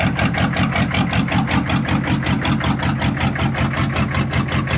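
Detroit Diesel engine swapped into a Monte Carlo idling after a cold start, a loud, close, rough rhythmic clatter with steady rapid pulses throughout.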